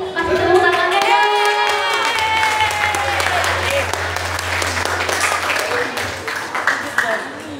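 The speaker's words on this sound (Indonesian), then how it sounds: "Kasih tepuk tangannya dong." Junior high students at a school orientation clap to welcome a speaker. A sustained, loud round of applause with dense hand claps runs under a steady low hum, while voices talk and call out over it at the start.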